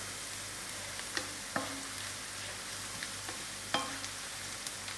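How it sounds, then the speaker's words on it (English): Dry chilies frying with softened onions in a pan, a steady low sizzle with a few sharp pops and stirring clicks, close and alone. "Allow these dry chilies to fry a little before putting the mushroom in"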